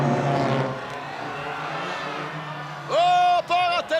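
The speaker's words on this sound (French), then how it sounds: "part en tête de queue pour la voiture numéro 10" Race car number 10 spins out at a circuit race, a distant engine drone that gives way to sharp, loud revving bursts as the car rotates, with a commentator talking over it.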